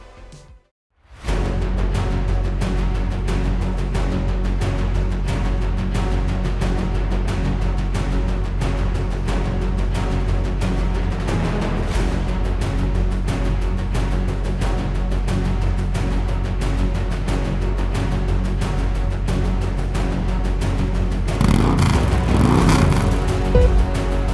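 Racing cars roaring continuously in a racing sim video game, a loud steady engine drone running throughout with a brief burst of revving near the end.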